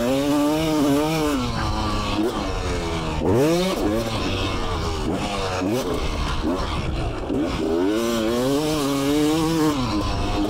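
Beta RX 350 two-stroke motorcycle engine revving, loud rising and falling whines with sharp throttle blips repeated over several seconds, with voices talking over it.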